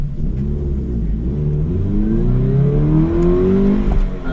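A Toyota 86 GT accelerates hard on an autocross course, its engine note climbing steadily through the revs, loud and close, with a continuous rumble beneath and no talk.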